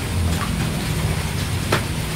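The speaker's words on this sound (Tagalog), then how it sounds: "Kulog yan." Steady heavy rain with a low rumble of thunder rolling underneath, a brief sharper crack near the end; no voices.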